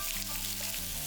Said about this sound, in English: Then we'll add in the onions, give it a mix.